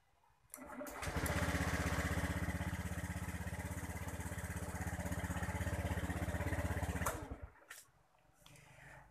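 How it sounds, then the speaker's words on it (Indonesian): A Honda Beat ESP motorcycle with a corroded starter relay socket cranks on its electric starter, giving a steady, close mechanical whirring rumble with fast rhythmic pulses that runs for several seconds and then cuts off. "enteng ya untuk starternya ya kita coba sekali lagi"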